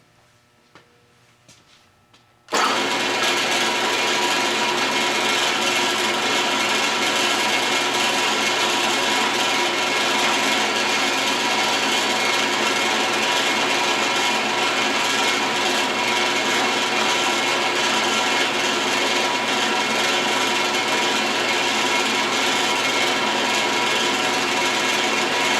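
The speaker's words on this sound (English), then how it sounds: "I'm going to try to maneuver it around so that I can drill right in all these little thick spots to put the screws" Power drill boring screw holes into thick spots of a wooden piece clamped in a Harbor Freight vise, a loud, steady whining drone running continuously after a short quiet start.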